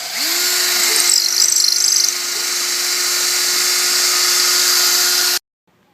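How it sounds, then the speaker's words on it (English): A drill bores pickup holes in an alder Telecaster body, its motor rising to a steady high whine with a brief rougher bite as it cuts, then stopping abruptly. "now we're going to drill the pickup holes."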